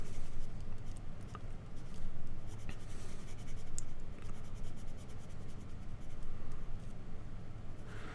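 A pencil scratches steadily across paper while sketching misty trees, its rotated tip giving a continuous close, dry rasp with small strokes and taps throughout.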